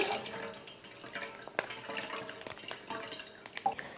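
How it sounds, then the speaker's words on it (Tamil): Thick milk being poured into a heavy-bottomed pot in a home kitchen, a soft, gurgling trickle with small splashes and drips, fairly close and quiet, with no talking. "அந்த பாத்திரத்தில் பால் சேர்த்துக்கிறேன்"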